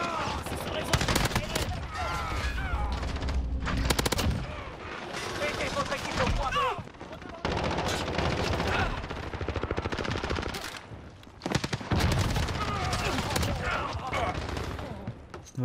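Rapid bursts of automatic gunfire in the shooter video game Modern Warfare, loud and repeated with short pauses between volleys, while a player talks over the action.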